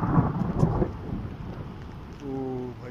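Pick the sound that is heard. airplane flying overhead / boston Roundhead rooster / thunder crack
thunder crack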